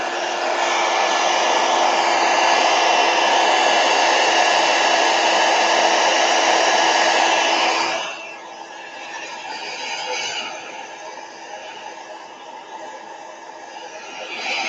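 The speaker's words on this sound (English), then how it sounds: "All right, heat gun." A heat gun blows hard and steadily over watercolor paint for about eight seconds, then drops to a softer, lower airflow that continues to the end.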